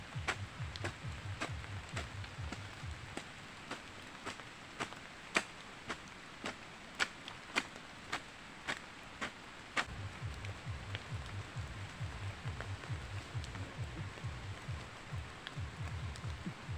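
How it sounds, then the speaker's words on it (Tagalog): Soft rain falls on surfaces outdoors on a farm, a faint steady hiss dotted with sharp, evenly spaced drip ticks. "Maulan po uli."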